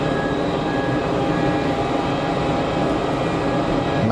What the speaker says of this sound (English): So the One World liveried Finnair Embraer 190 is on the taxi.